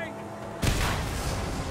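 A single loud shotgun blast in Mad Max goes off partway through and rings out in a long booming tail over a low vehicle engine rumble.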